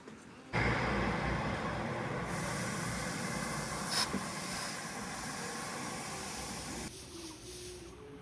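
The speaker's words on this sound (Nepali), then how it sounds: "गाडीको पछाडिको चक्का अलिकति हावा कम भएको थियो, यहाँ भाइले हावा हालिरहनु भएको छ" A steady, loud hiss of air pumps into a car's rear tyre, which has a faulty valve, running continuously from start to finish.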